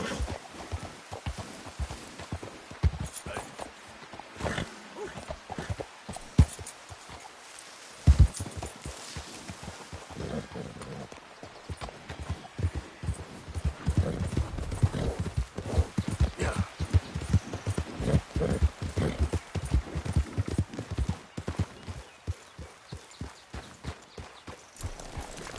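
Horse hooves clip-clopping steadily across a Red Dead Redemption 2 game world, with occasional neighs and snorts, close and continuous throughout, as brief voices speak softly over the riding.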